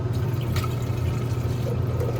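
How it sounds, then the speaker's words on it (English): Hydrochloric acid pours into a glass beaker holding gold pieces during electrolytic gold refining, a steady liquid stream splashing continuously at close range with no voices. "I'm going to add some hydrochloric acid to the gold here"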